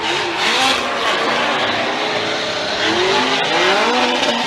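A Formula Drift car at the 2014 Atlanta round, its engine roaring loud and close while the tires squeal in a long sustained screech throughout.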